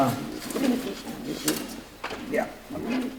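A racing pigeon being held in the hand at a race loft, its soft coos and wing or body shuffles coming close and intermittent over about three seconds, with a person talking throughout.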